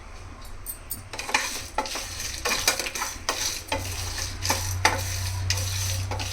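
Cinnamon, mace and broken dried red chilies dry-roast in a pan, stirred with a spoon in a quick repeated scraping rhythm over a faint low hum, close and moderately loud.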